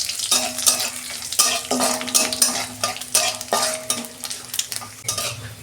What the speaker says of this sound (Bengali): 5-6 টুকরো রসুন তেলে দিয়ে দিচ্ছি।